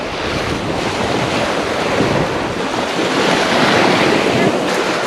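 Loud, continuous surf washing in at close range, mixed with wind buffeting the microphone, with no voices heard.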